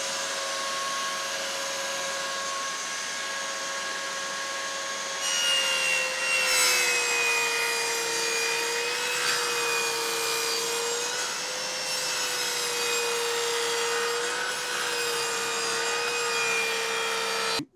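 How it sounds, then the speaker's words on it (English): A cheap Chinese table saw mounted in a workbench cuts wood with a loud, steady whine that rises as the blade bites into the board at about five seconds and holds through the cut, with no talking. "this is cheap Chinese table saw that I've put into my workbench and it's a bit noisy"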